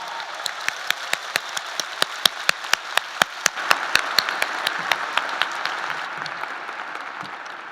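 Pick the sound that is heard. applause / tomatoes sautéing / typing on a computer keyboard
applause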